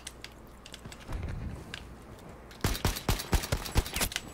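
Rapid, loud bursts of M1 Garand rifle fire in Battlefield 5 on the Provence map, sharp cracking shots crowding the second half after a quieter stretch of distant battle noise.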